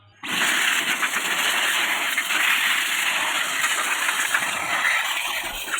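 Steady loud blast of compressed air blowing dust out of a GPU crypto mining rig, close and continuous after a sudden start, with a whining hiss and no talk.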